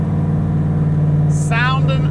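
A 1941 Willys Coupe engine idles with a steady low rumble, loud and close, and someone talks over it toward the end.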